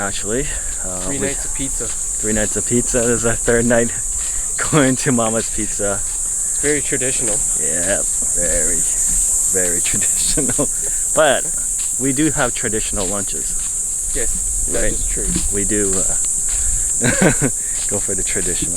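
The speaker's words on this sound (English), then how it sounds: "You can hear the cicadas in the background." Cicadas shrill loudly and continuously in the background on a beach at night on Gili Air, a constant high-pitched drone beneath people chatting as they walk.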